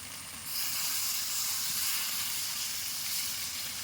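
Water poured into a hot pan of spicy chicken sets off a loud, steady steaming hiss that swells after a brief quieter start and holds strong to the end, with no talking.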